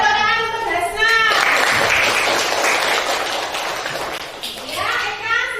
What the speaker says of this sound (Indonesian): tepuk tangan untuk Hasna